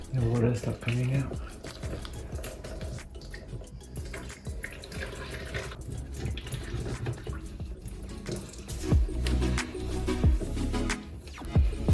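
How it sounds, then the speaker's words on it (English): Water drains from a disassembled bathroom sink S-trap into a bucket, a faint, uneven trickling and splashing with scattered drips, quiet and close, swelling slightly toward the end. "The water starts coming out."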